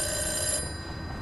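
A telephone bell rings briefly indoors in a scene from an Iranian romance film, a steady electronic trill that cuts off partway, leaving low background hum.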